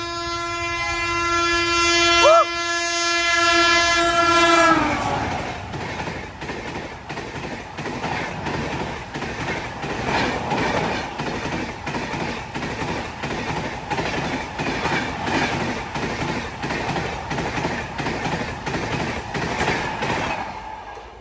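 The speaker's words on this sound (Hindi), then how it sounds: "पीछे से राजधानी बैक टू बैक। थर्ड राजधानी डिब्रूगढ़ न्यू दिल्ली राजधानी" Rajdhani Express train no. 12423, Dibrugarh to New Delhi, sounds a long horn blast and then thunders past close by on the track, its wheels keeping up a steady, loud clickety-clack rhythm with no talking.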